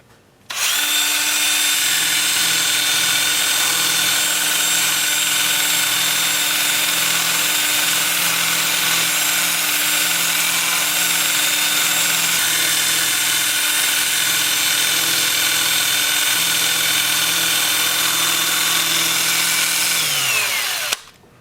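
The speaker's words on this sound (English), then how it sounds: "I will switch to my 2-inch sanding disc for the inside" A 2-inch power sanding disc works the inside of a turned wooden root, whirring steadily for about twenty seconds, a continuous high mechanical drone that starts abruptly and winds down at the end.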